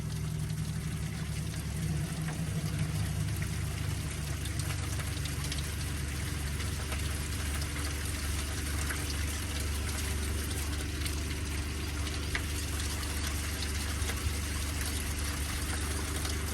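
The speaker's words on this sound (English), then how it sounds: "I had to get the generator and a pump out to help pump it through." A generator and pump push water through the cooling system of a 1984 Mitsubishi L200 Express engine during a water pump change, giving a steady, loud motor drone with rushing water that runs without a break.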